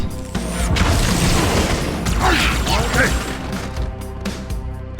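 The fuel rod gun in Halo 2 fires heavy booming blasts amid crashing combat noise, with voices talking over the gunfire throughout.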